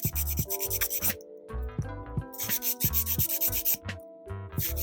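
A flexible file works over an acrylic-style nail extension decorated with nail charms, giving a close, rhythmic scratchy rubbing in repeated quick strokes with brief pauses, with no voices.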